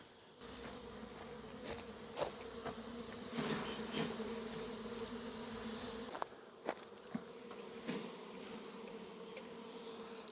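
A steady drone of many honey bees buzzing close by in a Langstroth box, continuous and dense, with a few brief knocks and rustles over it.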